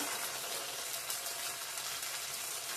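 Ground chili, coriander and cumin spices frying in a pan, giving a steady, dense sizzle heard close and continuous throughout, with no talking.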